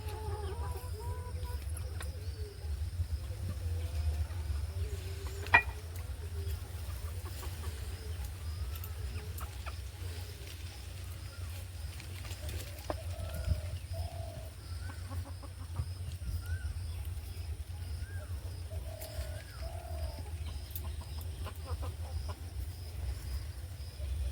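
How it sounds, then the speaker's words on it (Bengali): Chickens just let loose in a village yard cluck softly and intermittently at a distance over a low steady background hum, with a few short calls standing out. "মুরগিগুলো ছেড়ে দিয়েছি, ওরা যে যার মতো জায়গায় চলে গেছে।"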